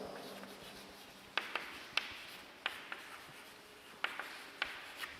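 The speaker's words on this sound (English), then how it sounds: "I'll write the structure of ethylene glycol first." Chalk or marker writes the structure of ethylene glycol on a board, with faint scratchy strokes and several sharp taps spaced irregularly, quiet and close in a still room.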